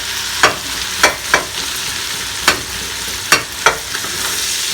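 Honey ham goes into cabbage frying in a pan, giving a steady sizzle with sharp spattering pops and stirring scrapes at irregular moments, close and alone.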